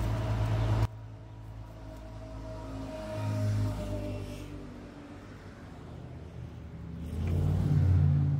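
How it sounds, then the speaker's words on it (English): Heavy road traffic rumbles past as a steady low roar, with engines swelling and fading as vehicles go by, fairly loud and without talk. "the traffic was getting really, really heavy"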